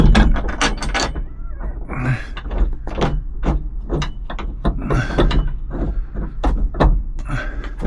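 A bolt is threaded by hand into a roll bar mount on a 1992 Jeep YJ 2.5, giving close, repeated metallic clicks and scraping turns in an irregular rhythm.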